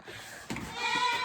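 Goats bleat on a small homestead herd of about twelve, a single close, wavering call rising out of the background and holding for under a second.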